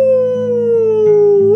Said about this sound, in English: Mad dogs like me howling at the moon.